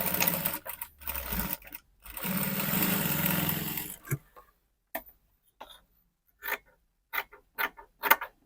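A sewing machine stitches a folded hem on a kimono-style bubu dress, running in two short whirring bursts before falling into sparse ticks and clicks of the mechanism, close and loud with no talking.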